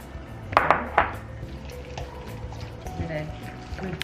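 Chicken and prawn dumpling filling with coriander and spring onions is stirred in a bowl, a few sharp clinks of utensil against the bowl early on, then softer scraping under a speaking voice.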